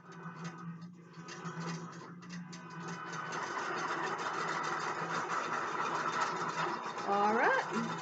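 A quilting machine driven by a Qbot robot stitches a quilt with a steady mechanical whir. It runs continuously at moderate, close volume, with a higher rising whine near the end.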